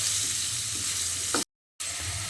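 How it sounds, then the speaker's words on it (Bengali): Potato pieces fry in oil over a low-medium gas flame, a steady close sizzle with a brief stirring scrape and a short silent gap before the hiss resumes. "তারপর এই আলুগুলোকেও লো টু মিডিয়াম ফ্লেমে লালচে করে ভেজে নেব"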